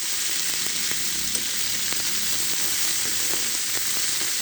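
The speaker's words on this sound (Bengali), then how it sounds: "কাঁকড়া দিয়ে উঠছে ভাজি, করলা উঠছে" Sundarbans crab frying with sliced bitter gourd in a pan, a dense steady crackling sizzle with occasional sharp pops and light stirring scrapes.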